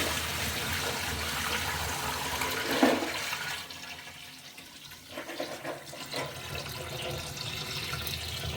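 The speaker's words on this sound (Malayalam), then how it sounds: "വെള്ളം മുഴുവനായും ഊറ്റി കളയാണ്." Water being poured off settled arrowroot starch, a steady gushing splash that thins midway, then continues as looser trickling and splashing nearby.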